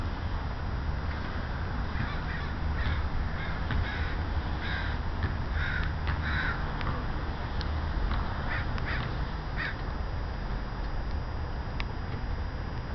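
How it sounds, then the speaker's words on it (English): Outdoors in cold wet weather, a murder of crows flies overhead, cawing in repeated harsh calls from several birds at a moderate distance over a steady background rush of wind or rain. "I have come out to see some crows fly overhead"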